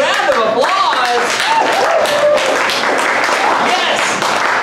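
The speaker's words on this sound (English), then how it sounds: "Give yourselves a round of applause." An audience at a Tuesday-night comedy show applauds with close, loud clapping mixed with cheers and whoops, a continuous burst lasting the whole stretch.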